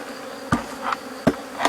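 A few honey bees buzz past close to the microphone in brief bursts, two or three quick passes over a quiet background, after a swarm is moved into a small hive.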